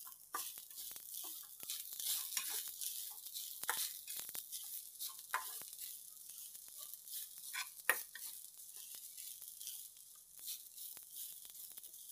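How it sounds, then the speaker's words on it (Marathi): Grated fresh coconut stir-roasted in ghee over low heat for coconut barfi, a soft steady sizzle with scattered scraping strokes of the spoon, continuous and fairly quiet. "खोबरं असं तुपामध्ये छान परतून घ्यायचं. मंद आचेवर एकसारखं परतून घ्यायचं."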